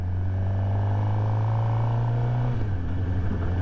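A motorcycle engine drones loud and close, its pitch climbing steadily before dropping sharply as it shifts up a gear, then rising again, with no voices.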